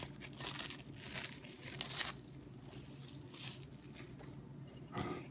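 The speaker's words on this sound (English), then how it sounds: "So first of all, we're going to take off the plastic wrap." Plastic wrap peels off a bowl of risen, moist baguette dough with soft crinkling and tearing rustles, faint and close, in a few short bursts.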